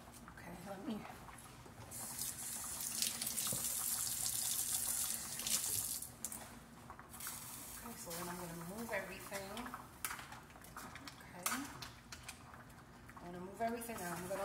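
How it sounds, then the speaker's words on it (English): Water runs from a tap into a cooking pot in a home kitchen, a bright hissing splash that swells and fades over several seconds. Faint clinks from the pot and a voice are heard alongside. "We're gonna have to put some more water in there."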